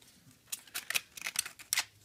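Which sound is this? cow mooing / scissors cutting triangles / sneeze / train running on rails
scissors cutting triangles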